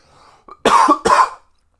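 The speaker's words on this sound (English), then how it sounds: "I'm going to cough really loudly into the mic" Two sharp, loud coughs close to the microphone, preceded by a faint breath, then silence.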